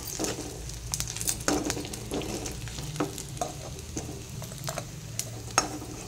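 Bommidi fish frying in oil until browned, giving a steady sizzle with soft spattering and occasional stirring clicks throughout, close and moderately loud with no talk.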